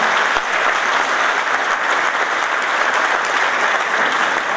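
Sustained, dense applause from a large audience at a PNL Neamț party rally launching 2016 parliamentary candidates, steady and loud throughout with no voices rising above it.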